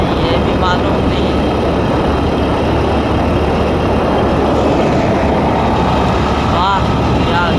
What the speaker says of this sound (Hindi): ये गाड़ियाँ यहाँ से आ रही है, जा रही है